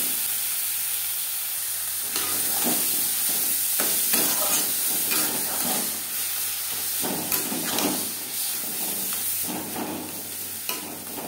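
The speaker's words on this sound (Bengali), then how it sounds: "ভাজা পেঁয়াজের সাথে লাউ পাতা বাটা বেশ ভালো করে মিক্স করে দেব।" Ground bottle gourd leaf paste fries with browned onions in a pan, giving a steady, close sizzle and hiss broken by repeated scraping stir strokes.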